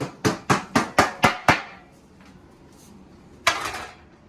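Hardtack dough coated in flour is tapped against a surface to knock off the excess: seven quick, evenly spaced knocks, then one more single tap after a short pause. The taps are close and clear, with no talking.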